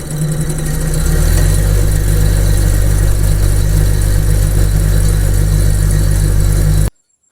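Ceiling fan coil winding machine starting up and running, a steady loud motor hum with a low drone that settles after the first second, then cuts off abruptly near the end.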